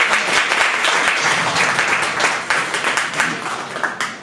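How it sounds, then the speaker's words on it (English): Loud, sustained clapping and cheering from the crowd at a live Saturday-night podcast show, dense and continuous throughout with a few sharper claps near the end. "Round of applause for you"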